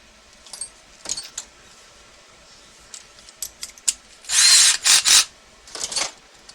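Threads being cut into the punched, unthreaded holes of a Tekno EB48 RC car chassis, heard as short scraping clicks and then a few loud, harsh grinding bursts close by, with no speech.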